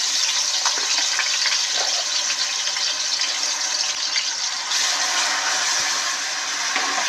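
Ground onion paste hisses and sputters as it fries in oil for a fish curry, a loud, continuous close-up sizzle with faint stirring.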